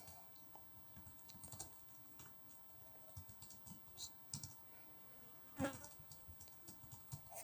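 Light keyboard typing as HTML code is entered, soft scattered key clicks at close range with irregular rhythm and a slightly louder burst near the end, no talking.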